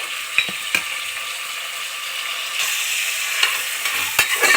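Cumin seeds fry in a pan for a carrot rice dish, a steady close hiss that grows louder partway through, punctuated by sharp spatula clicks and scrapes.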